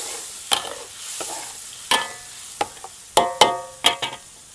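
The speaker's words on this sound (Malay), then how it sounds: "Masak sampai dia pecah minyak." Blended chili paste fries in oil in a pan with a soft steady sizzle, while a utensil scrapes and clacks against the pan in sharp irregular strokes, close by.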